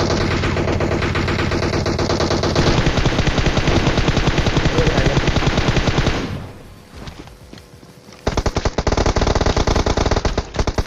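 MK14 rifle gunfire in a battle royale video game: loud, rapid, continuous bursts that pause briefly into quieter scattered shots before full bursts resume.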